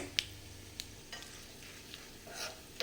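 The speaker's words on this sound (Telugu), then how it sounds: "కాస్త ఇలా కలుపుకుంటూ బాగా వేగనివ్వాలి" Tempering for gongura pickle, with turmeric added, fried in a pan while being stirred: quiet, soft sizzling under scattered light scrapes and clicks of the spoon, close and fairly faint.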